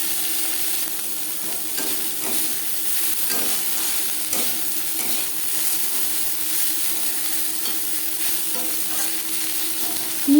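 Potatoes and brahmi greens stir-fry over a medium flame, giving an even, constant sizzle with soft scraping stirs at intervals, nearby and uninterrupted, with no one speaking.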